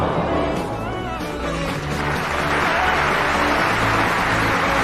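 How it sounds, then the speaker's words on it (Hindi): Spectators at a sports match applaud a player, a dense, steady wash of clapping and crowd noise that swells slightly in the second half and holds loud throughout. "ये देखकर सारे दर्शक उस खिलाड़ी के लिए तालियां बजाना शुरू कर देते हैं।"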